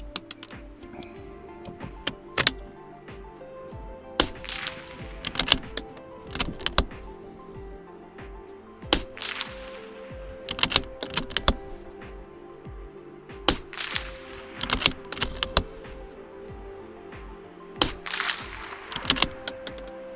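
.22LR rifle shots fired outdoors in heavy wind while hunting at about 120 yards, a spaced group of sharp cracks several seconds apart over steady wind noise, each with a brief tail.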